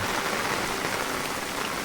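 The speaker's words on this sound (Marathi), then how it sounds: "सगळीकडे बघितलात तर जोरदार पाऊस पडता" Heavy rain pours down in a loud, dense, unbroken roar over a kitchen garden in Devgad, Konkan, close by and constant throughout.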